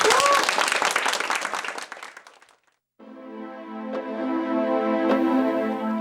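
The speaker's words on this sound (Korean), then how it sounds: "다시 한번 선생님 한 박수 한번 보내주십시오." Applause for a painter rises loud and dense, then fades away over about two seconds into a brief silence, followed by a sustained tonal musical passage.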